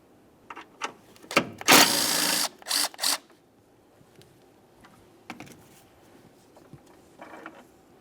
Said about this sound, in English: Remove the bolt and the battery hold down.